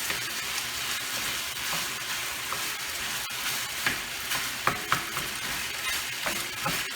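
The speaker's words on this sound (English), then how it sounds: "And I'm about to splash this here with that water. And it's going to steam up and heat that rice through." Day-old rice fries in a pan, sizzling steadily with a busy crackle, while scattered clinks and scrapes from stirring stand out sharply, especially in the second half.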